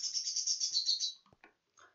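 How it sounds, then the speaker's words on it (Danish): Pet birds chirping indoors, a rapid run of high, bright tweets for about a second, then a couple of short clicks and one brief final call, fairly close and alone. "hvis I hører noget af baggrunden, så er det altså bare min fugle"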